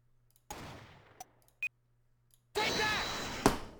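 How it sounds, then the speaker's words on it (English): Gunshots ring out inside a recording from the video game Apollo Justice: Ace Attorney, as a few sharp isolated cracks followed by a denser burst of loud noise near the end. "now find the gunshots"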